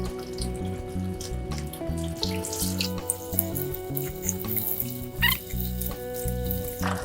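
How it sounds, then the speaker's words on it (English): Sorghum leaves being washed in water in a home kitchen while preparing Ghanaian waakye, with running tap water, splashing and handling noises layered over steady tonal background music. "So I'll wash my sorghum leaves as the water is on fire."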